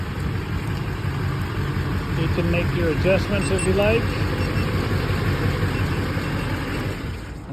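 A 2004 GMC 2500 HD truck engine idles after a remote start, a steady low rumble running throughout beneath someone talking.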